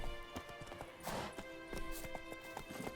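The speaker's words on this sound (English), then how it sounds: "There's the blasted horse." Rhythmic horse hoofbeats clip-clop at a trotting pace over a steady tonal music bed in The Witcher 3: Wild Hunt, fairly quiet and mid-distance.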